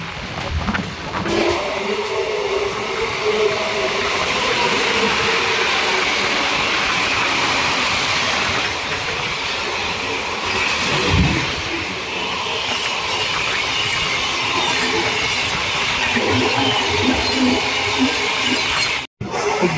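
Circar Express (17643 Chengalpattu–Kakinada) rolling slowly along the track, heard from on board as a steady, loud rumble and rattle of wheels and carriage that runs continuously for the whole stretch.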